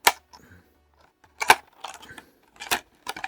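Plastic box of a Restoo hard cover phone case for a Samsung Galaxy being opened, heard as several sharp close clicks and snaps with brief crinkly rattles between them, and no talking.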